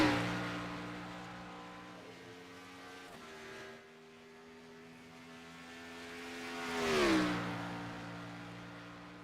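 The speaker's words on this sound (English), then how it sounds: "And now Chris Medford will make his way down the long front stretch here up the hill" A race car at Road America drones down the long front stretch, its engine note holding, dipping, then swelling loudly and falling again as it passes, with no talk.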